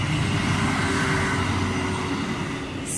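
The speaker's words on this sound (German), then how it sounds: "Da kommt der Zug." Train rolling along railway tracks during a walk with a dog, a steady, loud rumble of railcars close by with continuous low-frequency roar and rail noise filling the whole stretch.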